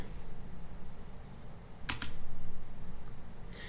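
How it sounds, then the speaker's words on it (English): Quick, light keystrokes tap on a computer keyboard while typing a terminal command in Linux, close and fairly quiet, with a couple of sharper clacks standing out over faint background hiss. "if I type sudo nano /etc/dummy,"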